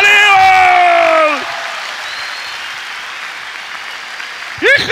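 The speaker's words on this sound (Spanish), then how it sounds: "¡El aplauso para Aníbal!" A comedy cabaret audience bursts into brief applause and cheering while a voice speaks over it at the start; the clapping fades into a quieter crowd murmur, then a voice rises again at the end.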